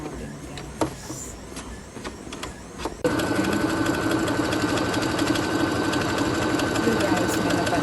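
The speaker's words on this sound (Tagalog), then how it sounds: "mahirap pa lang itahi dahil sa first time natin gamitin ang makina na in-unbox natin" A newly unboxed sewing machine stitching, starting with scattered clicks and handling noises before the motor kicks in at about three seconds into a steady, loud whirring hum with rapid needle rattle that continues to the end.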